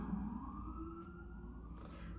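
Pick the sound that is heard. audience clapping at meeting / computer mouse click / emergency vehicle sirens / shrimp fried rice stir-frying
emergency vehicle sirens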